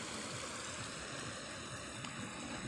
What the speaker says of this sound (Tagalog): dito pala dumadaloy guys yung tubig na galing dun sa